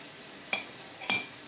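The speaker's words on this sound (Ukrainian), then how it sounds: "і розмішую це все." Two brief scraping clinks of a utensil stirring flour into a frying pan, over a steady low sizzle.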